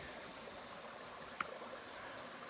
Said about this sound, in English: this is the Brown Mountain Creek